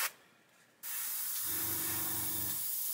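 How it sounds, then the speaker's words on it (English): Outlaw spray paint hisses loudly and continuously onto a cardboard stand after a short initial burst, with a low mechanical drone joining partway through and no talking. "As you can see, it sprays very, very nicely."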